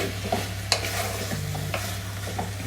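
Goat trotters stirred and frying with ginger and onion paste in a pan, a steady close sizzle broken by a few sharp scraping stir strokes, with no voices.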